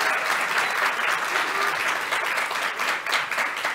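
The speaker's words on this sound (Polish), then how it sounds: "Jeszcze raz bardzo proszę o wielkie brawa dla organizatorki" Applause fills a real estate expert debate event in honor of the organizer, a dense steady clapping from the audience that carries on without a break.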